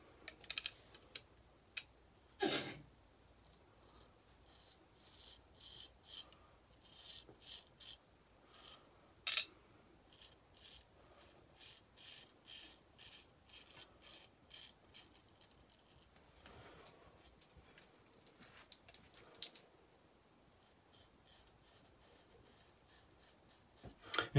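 A straight razor shaving lathered stubble, a series of crisp, close scraping strokes in short bursts with gaps between passes, quiet and alone with no talking.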